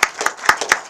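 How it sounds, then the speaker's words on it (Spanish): Brief applause for a speaker at the close of a legal talk, a handful of sharp separate claps spaced irregularly, fairly close and short-lived rather than a sustained ovation. "te vamos a dar un aplauso"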